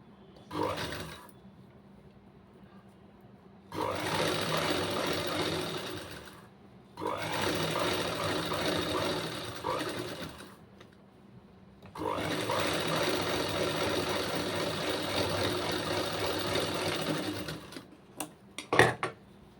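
A sewing machine stitches a blouse placket, running in three long, even bursts of rapid mechanical whirring separated by short quiet pauses, close by with no talk.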